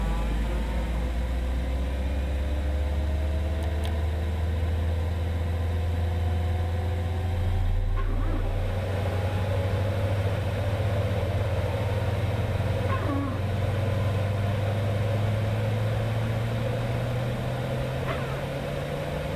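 Cessna Citation 750 jet engine starting up in Microsoft Flight Simulator 2024, a whining, rising tone that climbs steadily over a low rumble, with a few faint clicks along the way and no voices.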